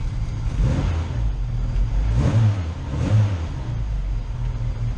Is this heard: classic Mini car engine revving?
yes